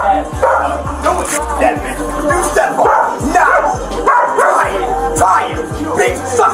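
A dog named Jinx barks in rapid repeated yips and bow-wows, loud and close, mixed with whimpers while people shout over it.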